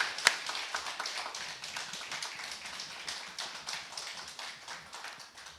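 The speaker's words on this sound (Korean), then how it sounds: "우리 박수 한번 크게 쳐주시기 바랍니다" A congregation at a Sunday church service claps for newly appointed church workers. The applause is faint and even, a soft continuous patter of many hands without speech.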